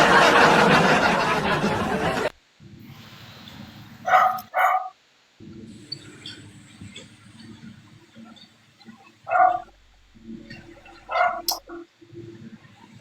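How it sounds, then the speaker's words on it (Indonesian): A dog gives a few short barks and yips in bursts, loud and close, with quiet gaps and a low hum between them, after a noisy opening stretch. "Itu si guguk aja itu yang penting-penting aja baru dia gonggong."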